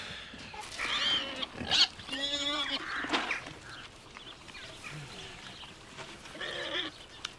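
Pigs grunt and squeal on a farm, a handful of nasal snorting calls in separate bursts at moderate distance, with other livestock sounds mixed into the background noise.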